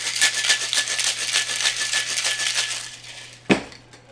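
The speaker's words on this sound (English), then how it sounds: "With this cocktail, you want to give it a good shake." A cocktail shaken hard with ice in a shaker for a martini, a dense run of rapid rattling strokes for about three and a half seconds, ending in one sharp knock before quiet.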